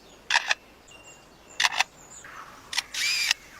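A lyrebird imitating a camera shutter in a forest: three bursts of crisp double clicks like an SLR firing, the last followed by a short whirring drive sound, over quiet background.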